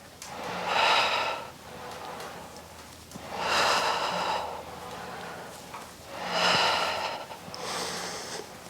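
Three long, forceful exhales during Pilates reformer arm presses, evenly spaced and close, each a breathy rush rising and fading, with quieter breathing between.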